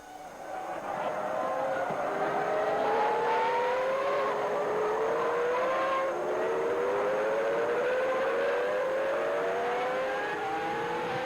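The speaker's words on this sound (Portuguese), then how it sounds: "O Schumacher conseguiu uma boa largada. O Barrichello uma ótima largada" Formula 1 cars roaring off at the start of the 2001 British Grand Prix, overlapping engine notes climbing through gear changes, a loud dense pack of cars held steady from start to finish.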